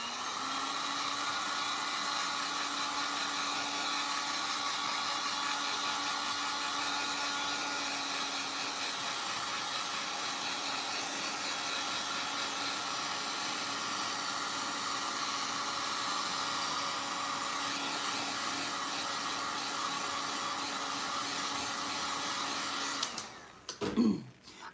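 A hair dryer runs steadily and loudly for over twenty seconds, blowing on fresh paint on a refurbished thrift-store finial, then shuts off with a brief clatter at the end.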